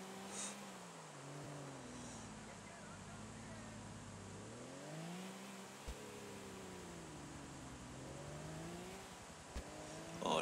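Car engine in GTA IV, a steady drone rising and falling in pitch with speed as the car drives, low under a faint background.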